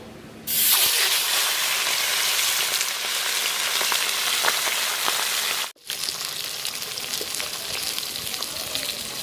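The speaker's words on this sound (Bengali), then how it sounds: "এই দেখো মাছের মাথা এটা আমি ভাজবো" A large goldfish head hisses and sizzles loudly in hot oil in a home kitchen, a steady crackling fry that cuts out briefly, then resumes slightly quieter.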